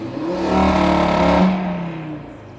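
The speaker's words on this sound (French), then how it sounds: "On déclenche le launch." A tuned 510-horsepower Audi RS3 revs hard and loud as it launches with launch control, holding a strained, rising roar before it drops away.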